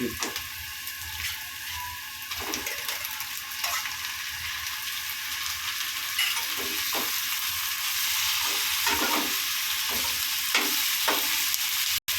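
Onions and prawns fry in a pan, giving a steady crackling sizzle broken by the scrape and clatter of stirring, close and fairly loud throughout with no talking.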